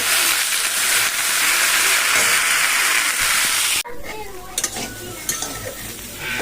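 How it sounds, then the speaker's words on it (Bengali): Loud frying sizzle of soybeans and potatoes in a pan fills the first part, then cuts off abruptly, leaving quieter clatter and faint speech with scattered clinks. "এখন ভাজাটা হচ্ছে সোয়াবিন হবে আর ভাত হবে"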